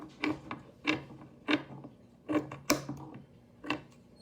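Scissors cutting through the fabric of a shirt in a straight line, a series of about eight crisp snipping crunches at irregular intervals, close and fairly quiet with no talking.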